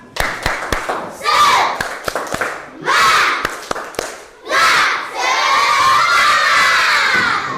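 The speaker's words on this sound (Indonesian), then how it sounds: "Coba tepuk semangat" A classroom of children performs a spirit clap chant: bursts of sharp synchronized claps alternate with loud shouted chanting from the group, ending in a long sustained cheer, all close and energetic.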